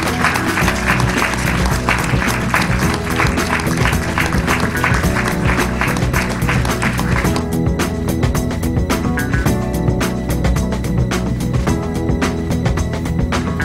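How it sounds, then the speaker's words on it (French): An audience applauds at a morning corporate engagement event, a thick wash of clapping with rhythmic pulses and sustained tonal sounds underneath, thinning slightly toward the end. "Je crois qu'on peut vous applaudir très fort."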